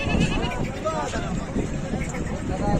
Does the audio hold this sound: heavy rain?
no